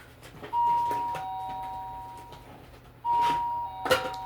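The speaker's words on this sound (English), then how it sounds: "And that is the doorbell." Household doorbell chiming twice, each a clear two-tone ding-dong ringing out and decaying, the second following about two and a half seconds after the first, with faint room noise between.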